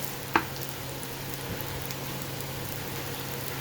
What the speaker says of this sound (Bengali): করলা ভাজিগুলো সব হয়ে গেল, এইভাবে সব ভাজি করে নিলাম